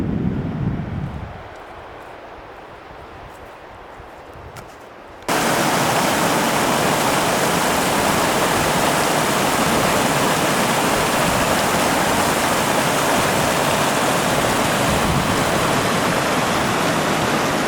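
Treasure Creek flows as a loud, steady rush of water that takes over abruptly a few seconds in, after a quieter, muffled opening. The roar continues unbroken to the end.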